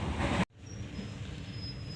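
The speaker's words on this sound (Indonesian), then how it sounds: "Silakan coba kereta api ini" Passenger train KA Kutojaya Selatan running, a steady rolling rumble and rattle from inside the carriage after an abrupt cut at the start, with a faint high squeal drawn out over it.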